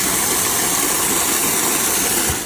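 A Masaki MK-850 automatic water pump with a cover runs at close range, giving a steady, loud motor hum with a broad hiss of rushing water that holds constant throughout and eases slightly at the very end.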